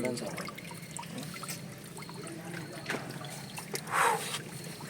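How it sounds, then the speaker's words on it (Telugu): Water falls and trickles in a government social welfare hostel, a steady wash of splashing noise with a brief louder gush near the end, with faint voices in the background. "నీళ్ళు దుంకుతా ఉంది ఇప్పుడు"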